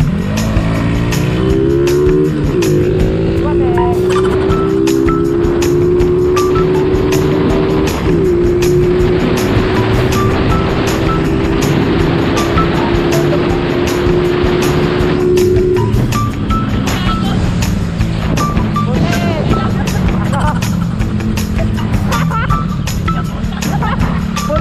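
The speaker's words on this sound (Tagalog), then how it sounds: "gamit ko ngayon yung XRM ko" A Honda XRM motorcycle ridden on the road, its engine note steadily rising and shifting with gear changes amid loud, continuous wind and road noise.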